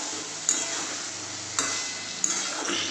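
Small fish curry with sliced raw tomato being stirred in a pan, a soft steady sizzle with three sharp scrapes of the spoon against the metal, close and alone.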